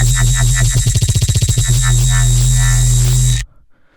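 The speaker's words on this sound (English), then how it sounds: "I also use an Ableton rack to do things like wobble," Dubstep wobble bass synth built in Serum and shaped with an Ableton effects rack, a loud, heavy low drone pulsing in fast rhythmic wobbles that speed up and slow down, then cutting off abruptly near the end.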